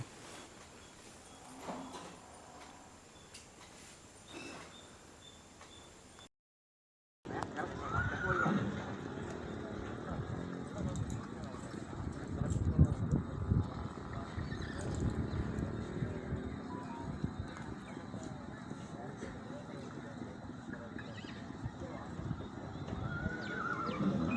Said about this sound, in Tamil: நம்ம குதிரையை ஓட்ட போகிறாங்க அதை தான் வீடியோவில் பார்க்குறோம்